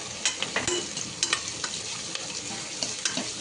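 Chopped onion frying in a pan with a pinch of salt, giving a steady close crackling sizzle broken by several sharp scraping stir strokes, with no talking.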